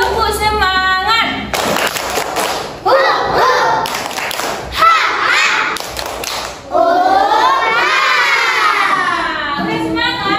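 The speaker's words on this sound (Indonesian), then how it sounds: "Oke, biar lebih semangat kita buat dulu tepuk semangat ya." Children in a first-grade classroom clap a rhythmic spirit clap in bursts of sharp claps, with children's voices and shouts mixed in and a teacher's voice between the claps.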